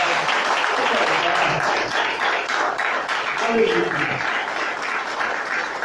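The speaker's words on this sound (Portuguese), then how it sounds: "Pode aplaudir." A church congregation claps through a steady wash of applause during a worship service, with voices calling out over the clapping.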